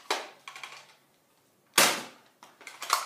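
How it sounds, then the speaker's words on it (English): Toy Nerf blaster firing foam darts, several sharp pops with whooshes in quick succession, close and fairly loud, then a pause and another burst of shots. "I try to hit the Spider-Man"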